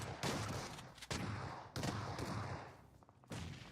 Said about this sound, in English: Spec with some good long-range shots with that S12. Let's see if that nade is effective